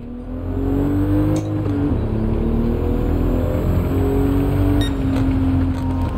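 Toyota Supra engine in Gran Turismo 7, droning steadily with a sustained low hum that dips and swells as it shifts through revs, close and loud throughout with no talking.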